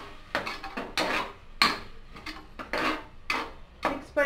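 Ground paste being stirred into a pan of mixed vegetable kurma, with a series of scraping, clinking utensil strokes against the pan at an irregular rhythm, close and fairly quiet, no talking.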